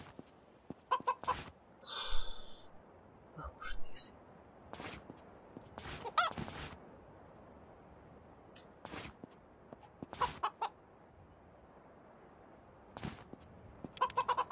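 A rooster in the video game A Space for the Unbound gives short clucking bursts, spaced irregularly across a quiet background, each call sharp and close.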